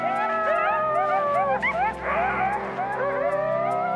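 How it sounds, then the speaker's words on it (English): A coyote pack joins in a group howl in Yellowstone, many wavering yips and rising, falling howls overlapping loudly and continuously, with a quavering chorus swelling midway. "This group howl means they're all still buddies."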